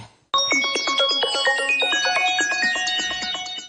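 A mobile phone suddenly starts playing a bright, melodic ringtone close by, a repeating tinkling tune that rings on steadily by itself.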